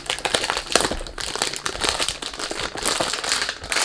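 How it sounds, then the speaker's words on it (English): Perfume packaging being unboxed, loud continuous crinkling and crumpling of wrapping and cardboard close to the microphone, with irregular bursts of rustle throughout. "sorry about the noise. When you do unboxing"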